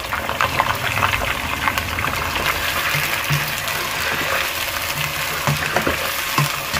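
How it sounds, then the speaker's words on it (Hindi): One kilogram of chicken fries in hot ghee for a biryani, giving a loud, steady, close sizzle with faint bubbling and occasional stirring knocks, and no talk over it. "जैसे ही घी अच्छे से गर्म हो जाता है इसके अंदर 1 kg चिकन है वो हम फ्राई कर लेंगे"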